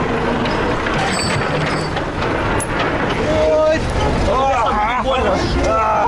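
A tractor driving through the Chernobyl zone: a loud, rough engine rumble runs throughout while people talk over it.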